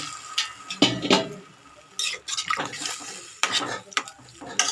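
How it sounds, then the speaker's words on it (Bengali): Water goes into a pan of small fish frying with mustard greens. It comes in short splashy bursts with clinks of pan and utensil and quiet sizzling in between, close and fairly soft. "ঠিক এইরকমই আমি জলটা দিলাম"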